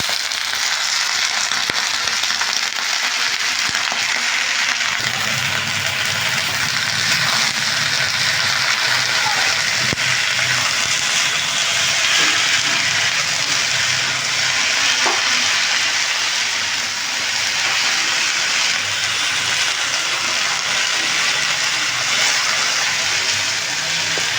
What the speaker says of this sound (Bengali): এইবারে এই শাকগুলো ধুয়ে রেখেছিলাম ওই শাকটা দিয়ে দিচ্ছি